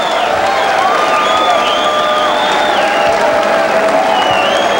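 Boxing arena crowd cheering and applauding loudly at the end of a round in a professional bout, with dense continuous clapping, whoops and whistles, and no talking over it.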